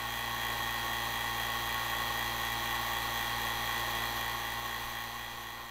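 An oil-sealed vacuum pump for a CDV vacuum chamber runs steadily, a continuous loud mechanical hum with high whine, unchanging throughout and alone.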